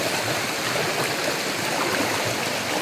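Stream water flows steadily, a continuous broadband rush and gurgle close by, running alone without pause or talk.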